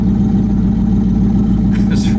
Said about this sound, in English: It doesn't even sound that raunchy at the stoplight